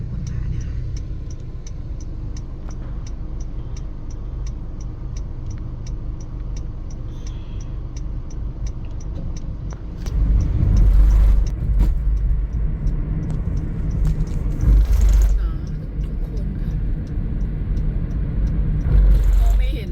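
A car is driven through thick early-morning fog in Korat, with a steady engine and road rumble and a regular light ticking early on. The rumble grows louder and rougher from about halfway through.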